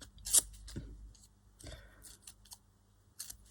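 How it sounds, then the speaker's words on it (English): Paper is torn by hand around a postage stamp, heard as a few sharp, close rips and crinkles separated by pauses. The tearing stands alone, with no voices. "just sort of rip a bit around it, like someone's taken it off an envelope"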